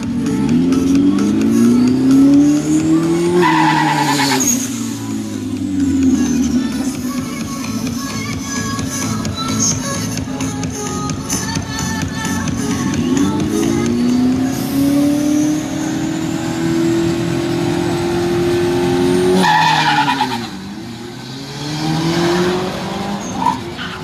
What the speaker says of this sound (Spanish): La verdad es que el Mustang es muy buen auto, pero el BMW se lo lleva de calle.